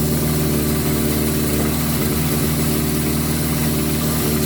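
A cold Suzuki GS1000 motorcycle engine idling with the choke on, a steady, loud, close rumble with a continuous throb and no voices.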